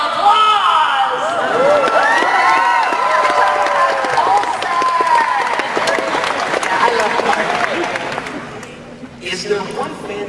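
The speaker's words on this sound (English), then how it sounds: "Why didn't Clark Gregg get a little applause?" Audience at a Dallas fan convention panel breaks into sustained clapping mixed with cheers and whoops, loud and full for several seconds before tapering off, with voices calling out amid the crowd.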